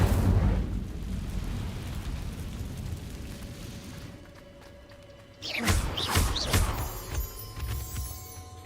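Incendio fire spell cast in Hogwarts Legacy, a sudden whooshing flare of fire erupting after a low rumbling lull, with roaring crackle and flickering bursts that fade gradually.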